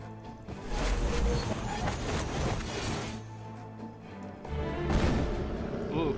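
Cannon shots from the Age of Wonders III strategy game, heard during a siege battle as a few muffled booms under the game's music and ambient noise.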